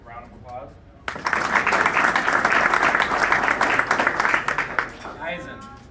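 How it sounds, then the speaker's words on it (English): A crowd at a sports team's post-season party bursts into loud, dense clapping that lasts about four seconds, with a single voice speaking briefly before and after. "Round of applause."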